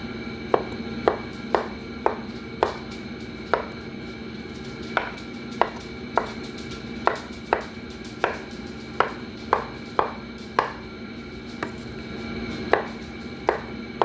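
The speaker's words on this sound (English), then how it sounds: "I don't like chopping olives" Knife chopping olives against a cutting board in steady, close strikes, about twenty sharp chops with brief pauses between them, and no voices.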